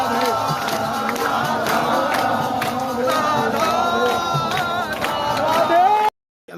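A dense crowd of devotees at Holi in Vrindavan cheers and shouts continuously, loud and close, with whoops and voices mixing throughout before it cuts off suddenly.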